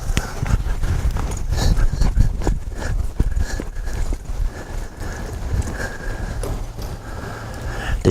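A cutting horse's hooves pound and shuffle on soft arena ground in rapid, irregular bursts during quick stops and turns, close and continuous with a dull rumbling texture.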